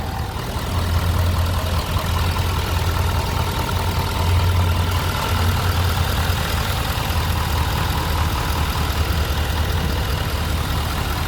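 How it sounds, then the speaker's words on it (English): A 2016 Ford F-350 Super Duty 6.7L diesel engine idles smoothly, a steady low rumble with a faint mechanical clatter, constant and close throughout. "The engine idles and runs very smooth."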